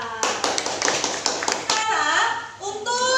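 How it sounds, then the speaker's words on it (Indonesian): Classroom of children clapping for a classmate: a rapid burst of hand claps for about a second and a half, then giving way to children's voices chattering and calling out. "Kita beri tepuk tangan untuk Najla."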